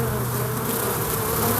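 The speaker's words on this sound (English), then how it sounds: "I got bees on the ground." Honey bees buzz steadily close to the ground, a dense continuous drone from many insects with no pauses.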